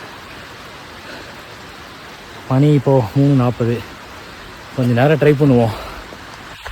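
Steady rain falls during a monsoon trek at Bhairavagad fort in Maharashtra, a constant soft hiss throughout, with a person speaking briefly over it twice.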